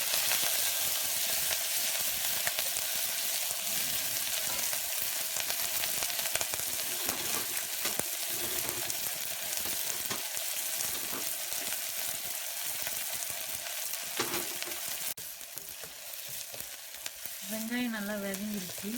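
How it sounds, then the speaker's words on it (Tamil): Chopped onions fry in oil with mustard seeds, a long, loud, continuous sizzle with dense crackling and occasional stirring scrapes throughout. "வெங்காயம் கட் பண்ணி வச்சுருக்க வெங்காயத்தை எடுத்து நம்ம போட்டுக்கலாம்"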